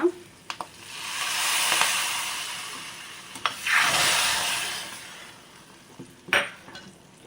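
Hot curry-leaf tempering tipped into a pot of guava rasam, giving broad sizzling and hissing bursts with a few sharp metal clinks of pot and spoon, fairly close and with no talk.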